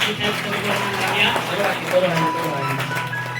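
A church congregation gives a welcoming round of applause, fairly faint scattered clapping that runs steadily under someone speaking over it.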